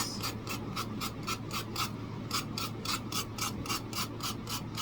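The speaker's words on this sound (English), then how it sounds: "And now I'm just going to take my sanding block to it" Sanding block scraped by hand across a wooden edge, working outward from the outside, giving a steady run of rhythmic rasping back-and-forth strokes, close and fairly loud, with a low steady hum underneath.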